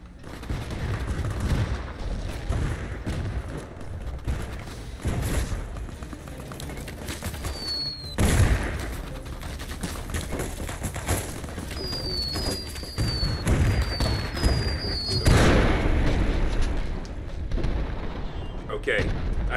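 Heavy booms of thrown grenades burst amid steady rattling gunfire in the game Fallout: The Frontier, a dense, loud battle with repeated explosions and whistling projectiles over nearly twenty seconds.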